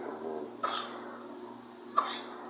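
Two short coughs from small children, twins who are sick with a cough and cold, spaced about a second apart over a quiet indoor background with a low hum.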